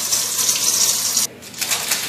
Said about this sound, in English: I'm gonna drain the water out.